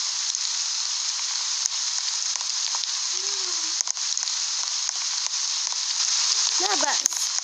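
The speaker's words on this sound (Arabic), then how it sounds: "إنها تمطر." Rain falls in a steady, even hiss that fills the whole stretch, with a few brief faint sounds breaking through near the end.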